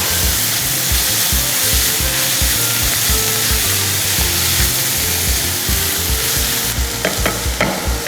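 Vegetables for a mole sauce sauté in a hot pan, a loud continuous sizzle broken by regular scraping strokes of a stirring utensil, close up, with a few sharper clatters near the end.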